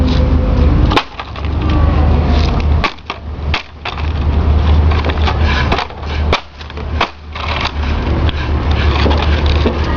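Wooden guitar smashed and splintering, loud repeated cracking impacts over a rough continuous crunching and grinding, with several sharp breaks spread across the stretch.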